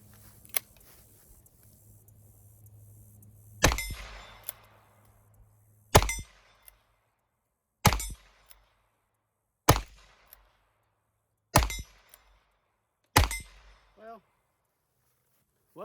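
A Ruger Old Model Vaquero revolver firing 45 Colt rounds at targets outdoors: six loud, sharp shots spaced about two seconds apart, each with a short ringing decay, and quiet background between them.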